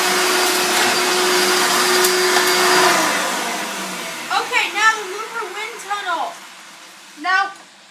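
A Hoover Elite vacuum cleaner whines steadily for a few seconds, then stops, and a person talks over the quieter remainder.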